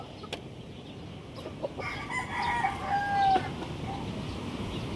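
A rooster crows once amid ambient outdoor background noise, with faint clucking; moderately distant, no talking.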